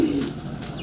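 A pigeon gives a short, soft coo, close by, over a low background hum.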